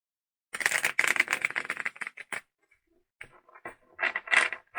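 Tarot cards being shuffled by hand in two bursts of quick crisp clicks and riffling patter, close and fairly loud, broken by a short quiet gap.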